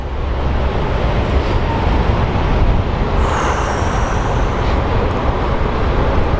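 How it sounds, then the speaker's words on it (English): An American Airlines jet airliner at Phoenix Sky Harbor Airport roars loudly and steadily as a close, broadband engine rumble, swelling slightly midway with a higher whine, and no voices are heard. "We have another American Airlines lining up, followed by a Contour Aviation Embraer."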